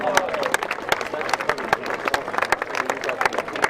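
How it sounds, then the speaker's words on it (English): A crowd at a rowing regatta prize-giving on a lake claps steadily for medal and trophy winners, dense, close applause with sharp individual claps and a few voices beneath. "Can I just have another large round of applause for all those who've had medals and trophies this afternoon?"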